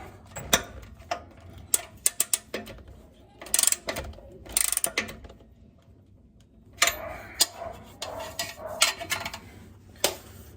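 A ratchet tightens a downpipe bolt on an OBS Ford 7.3 Powerstroke during a Diamond Eye downpipe install, with close, sharp clicking bursts in quick runs separated by pauses and some metallic handling.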